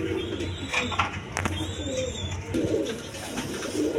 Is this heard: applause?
no